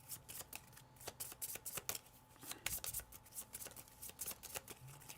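A deck of Nightmare Before Christmas trading cards being shuffled by hand, with a run of quick, crisp riffling clicks and flutters in a steady irregular rhythm, close up and fairly quiet, with no talking.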